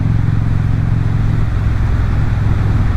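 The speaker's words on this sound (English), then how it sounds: "I'm no expert on what an engine should sound like on a motorcycle" A motorcycle engine idles loudly nearby, a deep, steady rumble with a low throbbing pulse throughout.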